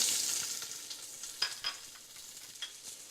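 Soft, steady sizzling of shallot frying in olive oil in a saucepan, with a few light stirring scrapes and clicks close by.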